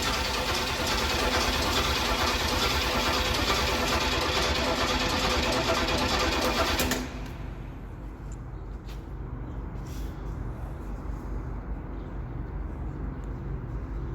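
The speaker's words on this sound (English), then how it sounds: "Just going to crank it over, get the fuel out" A junkyard '78 Pontiac 400 V8 cranking over to clear fuel: loud, steady churning for about seven seconds, then it cuts off, leaving a low background hum with a few faint clicks.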